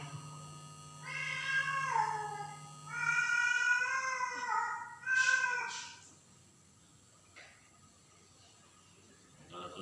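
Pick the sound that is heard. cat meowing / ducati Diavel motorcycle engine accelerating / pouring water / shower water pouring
cat meowing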